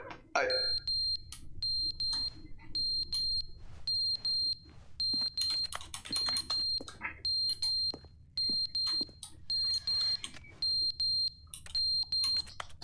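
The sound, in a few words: fire alarm beeping as its battery runs out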